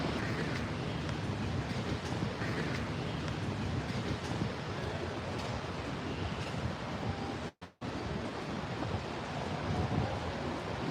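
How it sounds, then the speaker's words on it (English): An MBTA Orange Line subway train passes with a loud, steady rumble and rushing roar that fills the whole stretch, broken only by a brief dropout partway through; no one speaks. "There goes the orange line."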